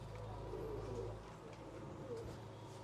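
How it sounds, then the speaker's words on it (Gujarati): Golden pigeons and other high-flyer pigeons in a loft give soft, low cooing calls that are faint and somewhat distant against a quiet background hum. "ગોલ્ડન કબૂતર છે પેલો, એક જોડ ગોલ્ડન કબૂતરની છે"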